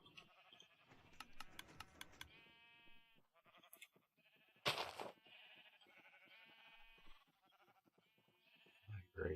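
Sheep in a Minecraft wool farm bleat over and over, several overlapping wavering calls crowded together at close range, with a brief rustle in the middle and no talk.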